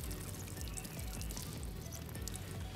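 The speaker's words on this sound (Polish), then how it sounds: "Wyciskam wodę." Water is squeezed out of soaked fishing pellets by hand, a soft continuous trickle and dribble of liquid heard faintly and close up without any talk.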